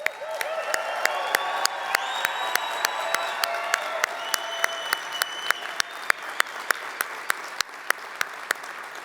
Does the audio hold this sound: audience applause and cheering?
yes